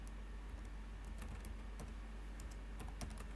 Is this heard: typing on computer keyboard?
yes